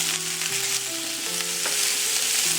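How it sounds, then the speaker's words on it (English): Sliced precooked chicken sausage sautéing in a pan, a loud continuous sizzle and spatter with occasional stirring scrapes, heard close and alone. "I want to saute them till they are like they have some brownie"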